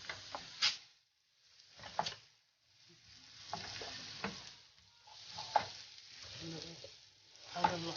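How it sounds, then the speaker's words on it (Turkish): Red pepper stirred in oil in a frying pan for borani, with soft intermittent scraping strokes and a faint sizzle, quiet and close, alone without talk. "bir tatlı kaşığı kadar da hatta ondan birazcık fazla kırmızı biber ekledik. Karıştıralım."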